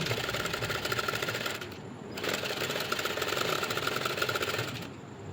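Sewing machine stitching a design along the border of a silk saree, a steady rapid mechanical rattle running continuously with a brief dip near the middle, close and alone.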